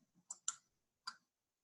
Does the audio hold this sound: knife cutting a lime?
no